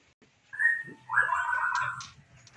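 A white-rumped shama songbird gives two clear whistled phrases, a short one then a longer rising warble, close and alone against quiet background.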